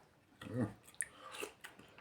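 A child eats soup at a home dinner table, with soft chewing, slurping and spoon sounds, quiet and close, and a few faint clicks in a hushed room.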